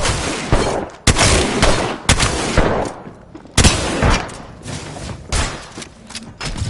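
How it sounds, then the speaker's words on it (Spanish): Video game gunfire in Apex Legends, with dense overlapping shots, thuds and impacts in loud irregular bursts filling the whole stretch, close and busy. "¡Me están disparando!"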